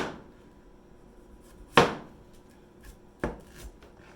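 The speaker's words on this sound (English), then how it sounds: "Let's get chopping using my bad boy cleaver." Cleaver strikes on a cutting board while chopping rehydrated ingredients such as vermicelli and ginkgo nuts: two sharp, separate chops about 1.5 seconds apart, close and loud against a quiet room, with a smaller knock after the second.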